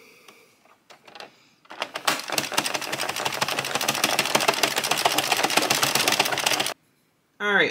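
An Addi or Sentro hand-cranked knitting machine works through rows, giving a fast, even, rattling clatter of plastic needles for several seconds. It stops abruptly, with a few faint clicks before and a short burst of another sound after.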